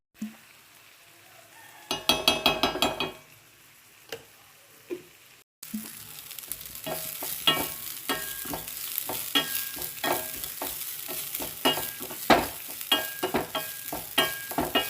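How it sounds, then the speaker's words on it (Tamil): Neem flowers sauté in ghee in a pan for rasam: after a brief burst of sizzling, a pause and a soft clunk, a continuous hiss resumes with frequent stirring scrapes and clicks of a spoon. "கொஞ்சம் நெய் ஊற்றி வேப்பம்பூ வதக்கி எடுத்துக்கலாம்"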